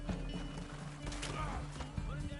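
Horse galloping in the video game Red Dead Redemption 2, hooves clip-clopping in a steady rhythm under game music and a brief whinny, moderately loud and close.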